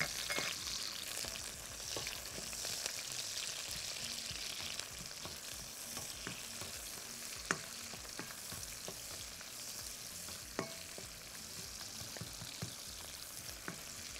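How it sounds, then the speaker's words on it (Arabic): Small pieces of chopped onion frying in a pan, a steady sizzle with occasional sharp crackles and pops, close and even, with no voice. "انزل بصلاية مقطعة جوانح صغيرة او ربع دايرة"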